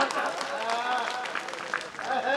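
A live audience at a Hindi comedy and parody poetry show claps in a dense, continuous burst of applause.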